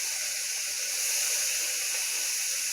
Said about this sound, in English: I'm adding the bacon to the wok.